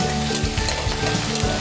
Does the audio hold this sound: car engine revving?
no